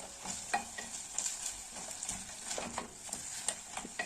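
Goat meat and onions being stirred in a pot, soft sizzling frying under intermittent spoon scrapes and clinks, fairly quiet and close with no talk.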